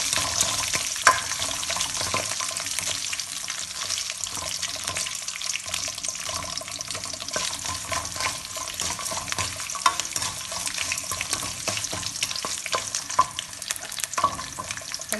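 Asafoetida frying in a pan for lemon rice, with a faint sizzle under soft scraping and stirring strokes and occasional clinks, steady and close.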